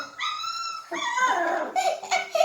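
A young puppy whimpers and yips up close, thin high whines and short squeaky yelps following one another with no talk.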